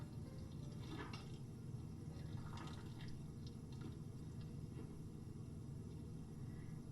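Water from a kettle left standing about two minutes is poured in a slow circular motion over coffee grounds at home, giving a steady, soft, continuous trickle and splash close by with no talking.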